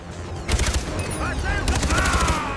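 Dense rapid-fire gunshots crackle through a Far Cry 4 airport assault, continuous and loud with a few sharper bursts, over game background noise.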